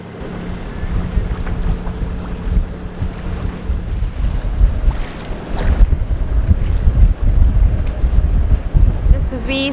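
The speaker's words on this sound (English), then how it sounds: "the wind really built, and we have about 35 knots on the nose" Strong wind, around 35 knots, roars across a sailboat's microphone as it approaches an anchorage in a storm, with continuous heavy low buffeting and water rushing against the hull.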